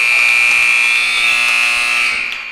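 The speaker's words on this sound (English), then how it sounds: "3 points there on that buzzer beater." A game-end buzzer at a high school girls' JV basketball game sounds as one loud, continuous electronic blare lasting over two seconds, tapering slightly at the end, with faint gym noise beneath.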